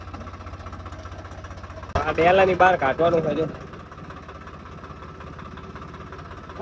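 A tractor being driven out through a gate, its engine chugging in a steady low throb throughout, with someone speaking briefly over it partway through.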